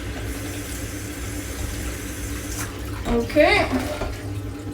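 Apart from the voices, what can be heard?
hot water from a just-boiled kettle being poured for stock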